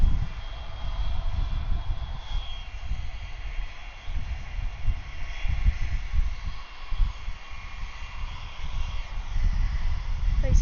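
A Southwest airliner taxies at Atlanta airport in the evening, its engines a steady, loud rumbling roar with a low-frequency drone held throughout.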